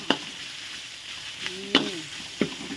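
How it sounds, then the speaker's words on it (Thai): Pork stir-fried in a pan for a pumpkin coconut curry sizzles steadily, with several distinct scraping stirs of a utensil at irregular intervals, close by and without talk. "เอาหมูมาผัดใส่เลยผัดใส่กันเลย"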